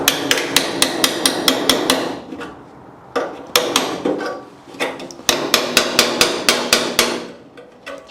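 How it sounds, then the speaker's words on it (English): A hammer drives a chisel into the steel bulkhead (firewall) of a Land Rover 130 Defender under repair. Loud, sharp metallic blows land in quick rhythmic bursts of several strikes, separated by brief pauses. "Where's hammer and chisel?"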